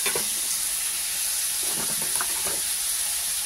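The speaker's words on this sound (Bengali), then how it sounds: "এবার আমি আলুগুলো দিচ্ছি। এইদিকে পোস্তর আলুটা ভাজি" Potatoes fry in oil in a pan for aloo posto, a steady close sizzle with short crackling bursts as the pieces settle and are stirred.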